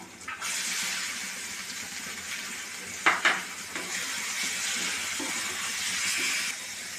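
Mutton liver frying with onion and tomato in a pan gives a steady broadband sizzle, with a few brief clatters of stirring partway through, close and alone without talk.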